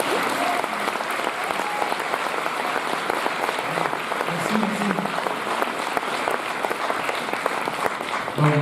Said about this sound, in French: Je pense qu'on peut applaudir le monsieur